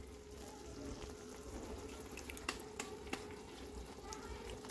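Onion and masala frying in oil in a pan, with kasuri methi just added for a vegetable curry: a steady, faint sizzle and crackle running throughout, with a few sharp clicks near the middle.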